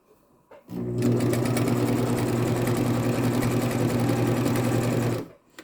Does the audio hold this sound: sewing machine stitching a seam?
yes